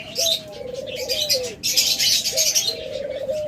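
A white dove coos in repeated drawn-out, gliding calls, close and clear, with sharp chirps from other birds scattered around it.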